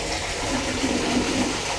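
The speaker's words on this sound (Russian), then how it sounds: "Напор воды это хороший." Steady rushing stream of water pours from the tap of a spring catchment (captage) on the Taraktash trail in Crimea, a continuous close splash with no speech.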